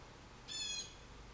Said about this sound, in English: we've got a bird squawking out my door here